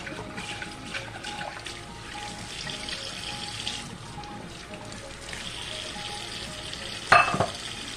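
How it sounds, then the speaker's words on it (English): Running water splashes steadily, like a tap pouring into a sink, as cooked noodles are drained and rinsed with cold water, with a brief louder clatter near the end. "I'm going to drain them and rinse them with cold water."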